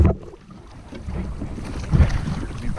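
A human-powered boat paddled across open water at dusk on Long Island Sound, with soft splashing strokes and water rushing against the hull amid gusty wind noise on the microphone, close and continuous.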